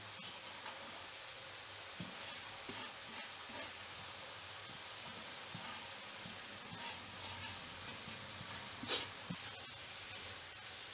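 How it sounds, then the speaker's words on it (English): Pre-cooked rice stir-fried in a pan with Schezwan sauce and vegetables gives a soft, continuous sizzle and hiss. Faint scrapes from stirring come through, with one brief sharper clatter. "Keep stirring so that it does not stick to the bottom."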